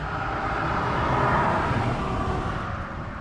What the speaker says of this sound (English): Again, sorry for the traffic.